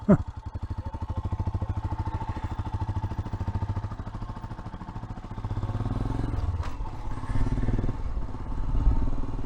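A Royal Enfield motorcycle rides an offroad gravel trail in the Picos de Europa, Spain, its single-cylinder engine thumping steadily and close throughout, with rougher scraping and clatter from the trail surface growing toward the end.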